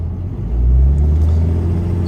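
A 3rd-gen Ram 2500 pickup with a 6.7 Cummins diesel merges onto an interstate. The engine drones as a low, steady rumble that swells briefly as the truck pulls, heard from the cab.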